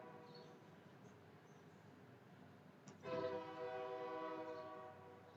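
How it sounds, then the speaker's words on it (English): A train passes at a distance, its low rumble steady until a loud horn blast cuts in and holds for a few seconds over the rolling noise. "The trains are coming by, guys. The trains are here."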